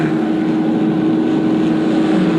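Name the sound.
race car engines revving on grid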